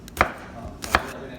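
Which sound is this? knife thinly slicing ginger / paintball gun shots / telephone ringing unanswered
knife thinly slicing ginger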